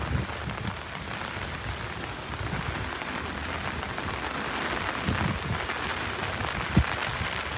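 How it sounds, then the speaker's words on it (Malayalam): Heavy rain pours down steadily in Dubai, a dense, constant hiss of water drumming on surfaces with a few louder drops and splashes close by. "വളരെ ഭീകരമായ അതിശക്തമായ ഒരു മഴ കണ്ടു"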